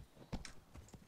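Horse hooves clip-clop in quick uneven beats during a mounted charge in the video game Mount & Blade: Warband, a few close, fairly loud hoof thuds over a short stretch.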